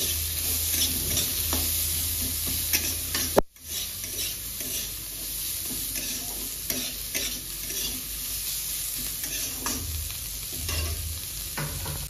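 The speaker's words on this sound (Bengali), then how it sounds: "এবার পেঁয়াজ কুচিটা দিয়ে দেবো, একটু ভালো করে নাড়াচাড়া করে নেব, লাল লাল করে ভেজে নেব।" Chopped onions sizzle steadily in hot oil in a pan while being stirred for a prawn malai curry, with soft scraping strokes and one sharp clatter partway through.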